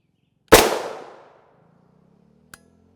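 A single sharp gunshot strikes a Level IIIA UHMWPE rigid body armor plate outdoors, a loud close crack with a ringing tail that fades over about a second, followed by a faint click.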